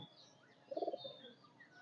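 Pigeons in a highflyer loft, a brief soft rolling coo rising once near the middle against a quiet background.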